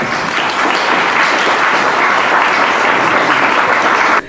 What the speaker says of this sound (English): how about let's welcome her with a round of applause